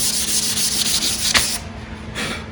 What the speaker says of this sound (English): We're gonna give it a nice quick little light sanding, get that texture from using the air gun.